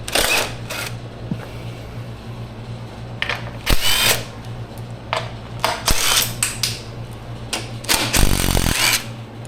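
A power tool spins off 10mm bolts on an ATV skid plate in short, sharp bursts over a steady low hum, with metallic clinks in between.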